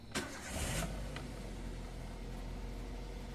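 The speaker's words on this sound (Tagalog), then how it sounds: "switch off ko na itong makina. Tapos start ko siya ulit." A Toyota Avanza engine with a check-engine fault is shut off and cranked back to life: a brief starter whir near the start, then a steady close engine idle hum running to the end, with no talk.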